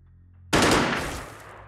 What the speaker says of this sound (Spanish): Voy a poner disparo automático.